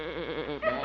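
A goat gives a short wavering bleat up close, then a second higher cry, lasting under a second.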